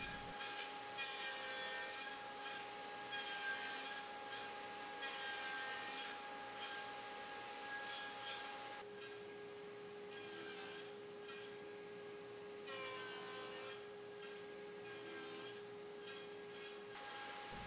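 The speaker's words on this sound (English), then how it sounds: "Then, when I'm happy with the fit, I'll cut all of their tenons at their full size." Wood being cut to size for tenons on a workbench rail, a steady rasping cut through hardwood repeating in several passes, with a constant machine hum running underneath throughout.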